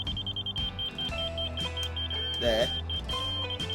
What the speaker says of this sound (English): when it stops beeping, well, at a high pitch